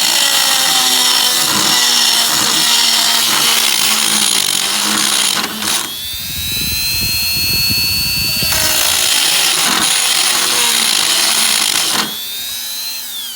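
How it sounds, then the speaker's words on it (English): A Dremel rotary tool smooths the step of a homemade climbing aider with a loud, continuous high whine. The pitch dips and climbs as the tool bears down, and a heavier grinding burst comes midway. "I'm applying just the weight of the Dremel tool itself to the step"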